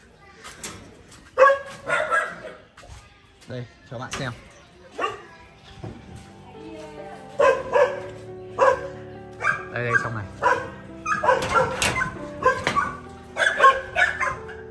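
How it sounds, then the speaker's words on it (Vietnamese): Plump newborn puppies still nursing yip, bark and whimper in repeated bursts, close by, while a person talks over them. "đây mình cho các bạn xem này năm con chó rất là bụ bẫm luôn đó"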